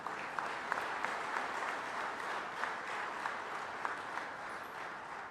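An audience at a ceremony honoring a hockey medalist claps steadily to welcome the sports minister, a dense, even wash of applause that holds throughout without a break.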